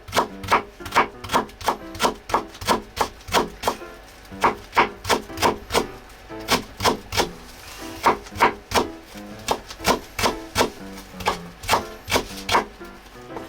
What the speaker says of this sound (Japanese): こんな感じで白髪ネギにしてあげてください